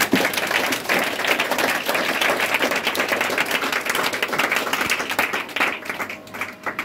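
A church congregation applauds together as an offering of acclamation, dense steady clapping held at an even level throughout without a break.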